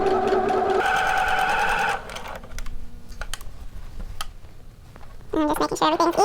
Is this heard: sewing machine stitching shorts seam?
yes